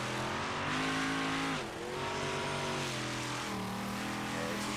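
A race car laps a track in the iRacing video game at Lucas Oil Speedway, its engine drone steady and fairly close, dipping briefly as it lifts then rising again.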